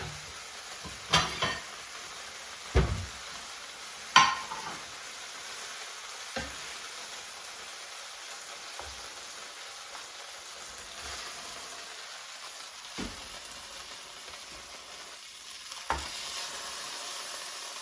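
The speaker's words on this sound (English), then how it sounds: "I'm going to take them off the pan and try them" Pan-fried bratwurst on the stove, a soft continuous sizzle with a few distinct clunks and scrapes as the sausages are lifted from the frying pan, otherwise fairly quiet and even.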